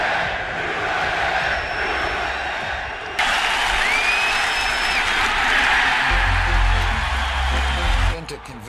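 A sold-out Yankee Stadium crowd roars and applauds, the broad wash of noise swelling suddenly partway through and holding loud before cutting off near the end.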